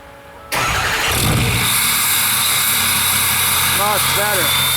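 A loud, deep 2004 Ford 6.0 Powerstroke diesel with a 4-inch MBRP straight pipe exhaust cranks and fires up, then settles into a steady, heavy rumbling idle with a raw, throaty exhaust tone.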